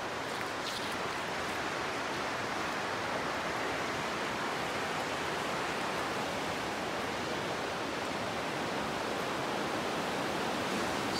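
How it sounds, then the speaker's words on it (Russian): A river flows through Wildwood Recreation Park in spring, giving a steady, full rushing wash of water that stays close and even from start to finish, with no voices. "Протекает река."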